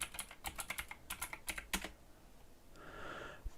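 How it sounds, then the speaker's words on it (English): A password is typed on a computer keyboard in quick bursts of close, crisp key clicks for about two seconds, then the keys stop and a faint hiss follows, with no talking. "Let me just type in the password there."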